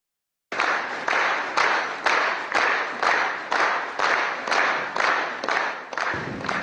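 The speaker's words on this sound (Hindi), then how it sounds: "इथियोपिया की संसद में 50 बार तालियां बजाई गई" Members of the Ethiopian parliament applaud Indian Prime Minister Modi's speech: loud, rhythmic group clapping in about a dozen even, regular bursts, starting abruptly after a brief silence.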